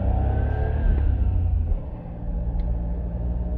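Suzuki Cappuccino small sports car with no power steering pulling away, a close engine rumble that rises with a brief rev, then drops and settles into a steadier drone.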